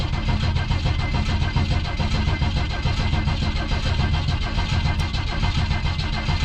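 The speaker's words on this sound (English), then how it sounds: "Oh wow, it cranks surprisingly well." The engine of a 1971 Ford Maverick cranks over on the starter with a loud, close, rapid rhythmic churning that stays steady for several seconds without catching.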